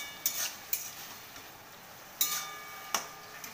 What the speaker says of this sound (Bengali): এবার খুব ভালো করে নাড়াচাড়া করে নেব।